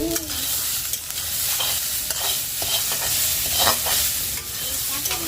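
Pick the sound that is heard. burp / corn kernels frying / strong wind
corn kernels frying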